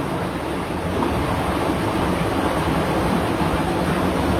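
Strong wind rushes steadily through a cave passage, a loud, dense, unbroken roar of air buffeting close against the microphone.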